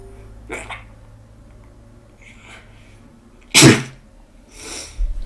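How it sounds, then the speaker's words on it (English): A single loud, sharp sneeze bursts out close by after a few quiet breaths, followed by a softer exhale. "I need to sneeze. Again."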